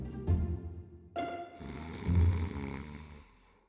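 A person snoring, with deep, rattling breaths in a slow rhythm, close and fairly loud, heard alone without talk.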